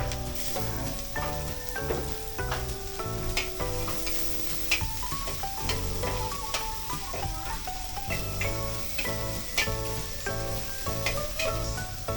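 Ginger hits hot oil after garlic has turned golden brown and is sautéed, giving a continuous crackling sizzle with stirring, partly masked by steady background music throughout.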